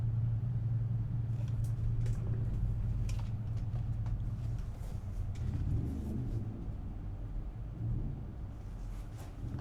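A stationary motorcycle engine idles and revs in a low, steady rumble that swells and eases repeatedly, fairly close, with no talking.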